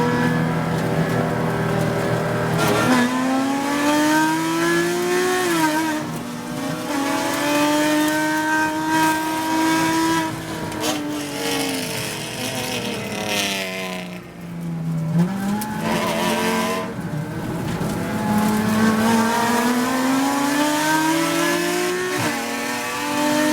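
Race cars starting a Pro Auto Sports race at East Track, an in-car engine revving and climbing through gears with shifts and steady acceleration, other cars faintly around, loud and close with no talking.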